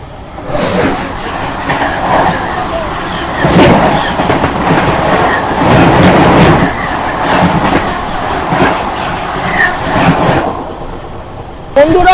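The Howrah to Chandigarh 12311 Netaji Express runs on its rails with a loud, continuous rumble and rhythmic clickety-clack heard from inside the train, and voices occasionally rise over it.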